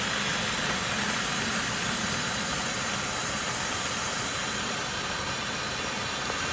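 Conair TrueBlend TB-T blender with its component 3 hopper valve opened, material draining out under a steady broadband hiss and machinery hum that continues throughout.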